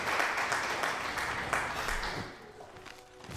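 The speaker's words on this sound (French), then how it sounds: "Merci beaucoup pour les applaudissements." Crowd applause in the Crusader Kings 3 strategy game: a quiet, steady wash of clapping that fades out toward the end.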